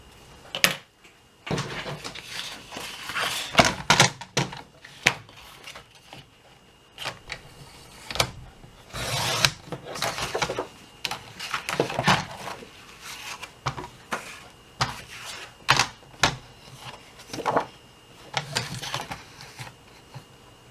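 Someone trims a journal cover into three panels with a paper trimmer or blade, making a long series of irregular close rustles, scrapes and cutting strokes with short pauses between them and no talking.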